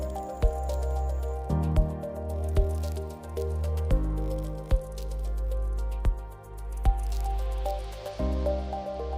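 Jaggery and sugar being stirred into grated sweet-and-sour mango chutney: wet, sticky squelching with soft drips and repeated sharp taps of a spoon against the bowl, close and steady, no talking.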